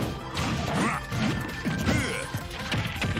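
Forward smash attacks land in a Super Smash Bros tournament match between Wario and ROB, Roy or Luigi: a run of sharp, loud crashing hits and whacks over busy game sound.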